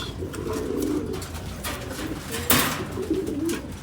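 Pigeons coo softly in low, repeated murmurs at close range, with faint bird calls and background noise around them.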